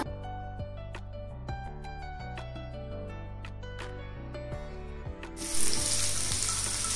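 Three cut onions hit hot oil in a pan with a sudden loud, close sizzle that bursts in near the end and keeps going, after several seconds of background music.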